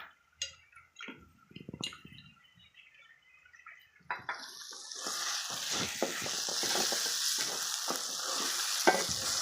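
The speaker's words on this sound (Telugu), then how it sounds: "సిమ్లో పెట్టేసుకొని బాగా మిక్స్ చేసేసుకోవాలి" A spiced prawn fry with coriander powder and garam masala is stirred in a pan over low heat, with scraping and clinking first and then a steady sizzle under the stirring.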